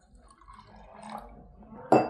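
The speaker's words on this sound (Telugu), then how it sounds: "ఇలా నీళ్లు పోసి" Water is poured into a steel pot on a stove: a quiet trickle and drip build to a brief, louder splash near the end, with no talk.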